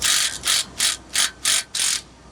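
A flathead screwdriver loosens the belt tensioner on a ProSlab Stackerhead, making six quick rhythmic ratcheting clicks close up with no talking.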